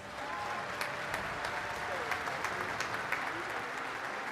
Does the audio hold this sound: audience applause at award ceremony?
yes